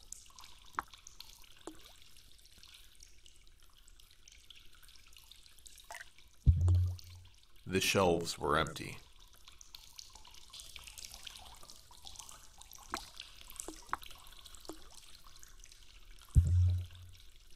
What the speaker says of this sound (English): I wondered how long it had taken for the leak to make a puddle that large.